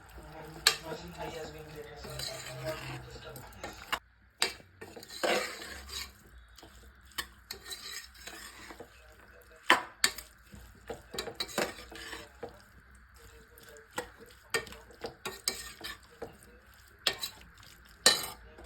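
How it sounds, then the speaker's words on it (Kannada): A spoon stirs salt and sugar into pulav in a metal pan, giving quiet, irregular scrapes and clinks that come in bursts with short pauses between them. "ಈಗ ಸ್ವಲ್ಪ ಸಕ್ಕರೆ ಉಪ್ಪು ಎಲ್ಲ ಹಾಕ್ಕೊಂಡು ಮಿಕ್ಸ್ ಮಾಡಿರಿ"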